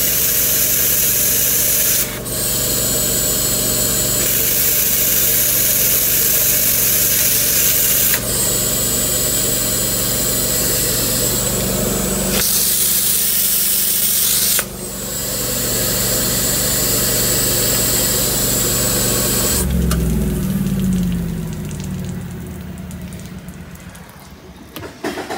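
A booster pump with a bypass valve, sulfur hose and pressure regulator runs steadily with a loud, constant mechanical drone and hiss for about twenty seconds, its tone shifting briefly midway before it changes and tapers off near the end.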